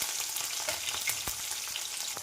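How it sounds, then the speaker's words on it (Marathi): Cumin, onion and green chili fry in hot oil for a tempering, a dense, steady sizzle close up with light stirring scrapes throughout and no voices. "तेल गरम झाल्यानंतर त्यात जिरं टाकायचं. नंतर कांदा आणि मिरची टाकायची."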